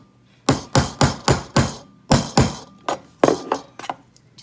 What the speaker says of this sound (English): take a hammer because you're gonna wanna bend a divot into the ring here